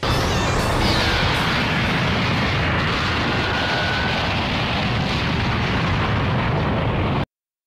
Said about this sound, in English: Chaos Blast!